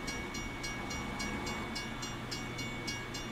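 Train passing at night in American Truck Simulator, a steady rolling rumble with a regular clacking pulse of wheels over rail joints, sustained and moderately loud with no talking.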